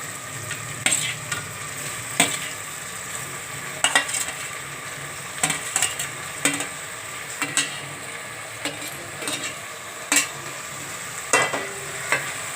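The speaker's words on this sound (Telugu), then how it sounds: "బాయిల్ చేసి పెట్టుకున్న బోటి కూరని ఇప్పుడు ఇందులో వేస్తున్నాను చూడండి." Boiled goat tripe is tipped into a pan of frying vegetables and green chilies, with a steady soft sizzle under repeated sharp clinks and scrapes of a spoon stirring against the metal pan, nearby and moderately quiet.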